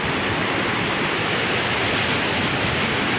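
Catarata Flor del Agua, a waterfall near caves, roars in a dense, unbroken rush of falling water, loud and close with no voices.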